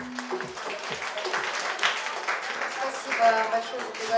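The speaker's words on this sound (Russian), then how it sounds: "Аплодисменты нашим гостям." An audience at a Stand Up to Cancer benefit in Brooklyn breaks into sustained applause for arriving guests: a dense, even patter of many hands, with a voice talking over the clapping.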